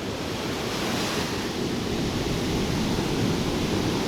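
Black Sea surf off the shore at Odesa after a storm rolls in as a continuous, loud roar of breaking waves, mixed with buffeting wind noise and no voices.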